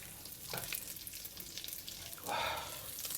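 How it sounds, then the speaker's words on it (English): Ingredients pan frying slowly over medium-low heat for a dry chicken bak kut teh stir fry, a soft steady sizzle with a couple of louder stirring swells. "Just slowly pan fry it."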